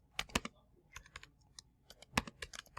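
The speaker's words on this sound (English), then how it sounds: "you would type in the title" Typing on a computer keyboard, with quick irregular clusters of crisp key clicks close up and short pauses between bursts, no voices.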